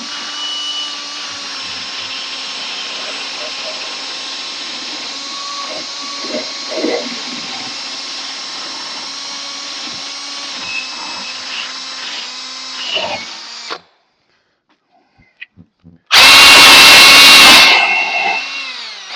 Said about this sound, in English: Just the wire wheel on the drill.